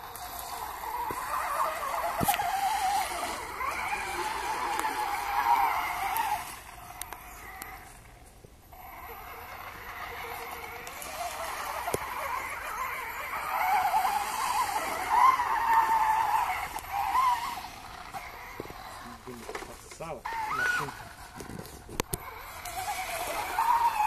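A Traxxas Stampede 4x4 RC truck drives through water, its electric motor whining and revving in uneven bursts with splashing and skidding, rising and falling as it moves nearer and farther away.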